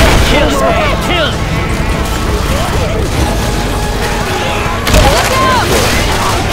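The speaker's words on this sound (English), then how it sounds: "Deploying fire bullets! Shooting!" Left 4 Dead 2 gunfire with fire bullets, a loud, dense stream of shots and booming impacts mixed with chaotic game noise, rising into another burst toward the end.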